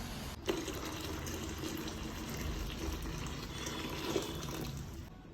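Hot water pours into a container in a home kitchen, a steady low gush and trickle that runs quietly for several seconds, with a couple of light knocks.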